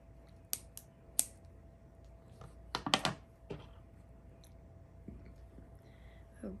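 Scissors snip yellow crochet yarn in a few sharp, close clicks scattered across a quiet room, with a tight cluster of cuts in the middle.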